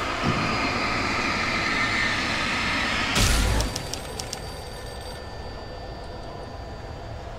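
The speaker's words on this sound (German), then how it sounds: "Telefon." An in-game telephone in Alan Wake rings in a bright, rapid bell pattern partway through, cutting over a dense rumbling background that drops off as the ringing starts.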